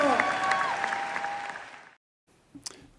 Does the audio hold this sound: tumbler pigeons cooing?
no